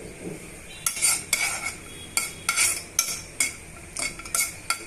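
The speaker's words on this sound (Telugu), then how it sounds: "ఇవన్నీ బాగా వేయించుకోవాలండి జీడిపప్పుని" Cashews stirred in ghee for semiya kesari: a spoon scrapes and taps against a metal pan in quick, irregular bursts over a faint sizzle, close and fairly quiet.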